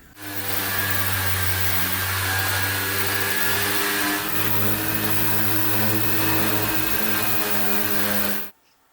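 An electric sander runs steadily on old paint on 70-year-old window sun shades, a loud continuous motor whine with a strong low hum, stopping abruptly near the end.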